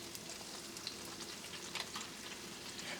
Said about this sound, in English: Fry these up because these are already cut up, but we're also gonna put some in the chorizo oil.